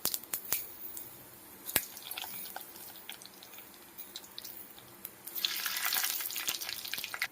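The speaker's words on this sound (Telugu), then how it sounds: "ఆయిల్ అయితే వేడైందండి. ఇప్పుడైతే పచ్చనగపప్పు వేస్తున్నాను." Chana dal, cumin and mustard seeds fry in hot oil in a pan for a gongura pickle tempering, a soft sizzle with scattered pops and clicks that swells louder near the end, no talking.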